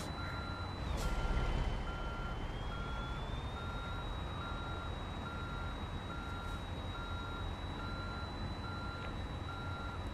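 A truck in American Truck Simulator reverses with a steady, evenly spaced series of beeps over a constant low engine rumble, accompanied by a sustained tone.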